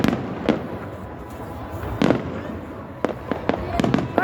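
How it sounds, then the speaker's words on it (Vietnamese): New Year fireworks over Hai Duong, Vietnam, bursting in sharp booming pops, several spaced across a few seconds with a clustered volley near the end, over a steady crackling outdoor background while a voice talks briefly. "dậy xem pháo hoa này"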